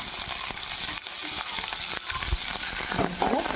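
Coriander leaves frying in hot oil until crisp for a kara podi spice powder, giving a steady, close, dense sizzle throughout with a few soft stirring knocks and no speech.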